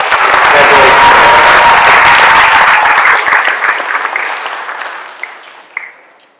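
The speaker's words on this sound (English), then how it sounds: "Let's give him one more round of applause." Loud, dense applause fills the hall at a Minnesota/USA Wrestling awards banquet, a sustained roar of clapping that gradually thins and tapers off, with a few last claps before silence.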